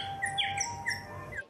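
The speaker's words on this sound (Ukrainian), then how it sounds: "А потім прилетіла пташка і теж почала співати." A small bird sings outdoors, with a steady run of clear, high chirps and tweets that sounds fairly near and moderately loud, then stops abruptly.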